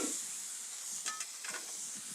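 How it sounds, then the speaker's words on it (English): Water turns to steam beneath a dome set on a hot restaurant griddle to melt cheese, a continuous soft hiss and sizzle with a few faint crackles, no voices. "This steam is gonna help melt that cheese better than any salamander putting it under the broiler."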